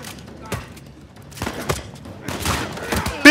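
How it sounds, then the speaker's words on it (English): Shotgun blasts in the video game Uncharted 4, a few sharp broadband bursts spread across a busy firefight, the last one loud and close, with voices shouting in the mix. "Oh, he had a shotgun!"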